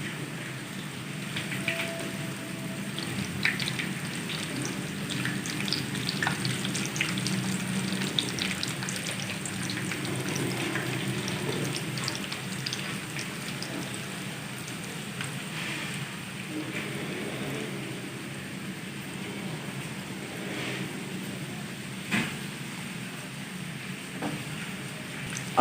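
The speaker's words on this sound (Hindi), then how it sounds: "बिल्कुल हल्की आंच पर फ्राई करेंगे।" Breaded chicken patties fry on very low heat, giving a steady soft sizzle with faint crackle throughout, close and continuous with no talk.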